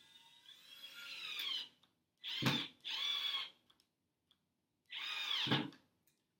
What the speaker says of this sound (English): That means that the drill is going to spin forward, so the screw is going to go into the wood.